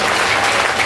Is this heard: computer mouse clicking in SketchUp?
no